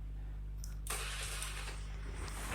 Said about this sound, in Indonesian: Selanjutnya kita akan mencoba untuk double starter lagi.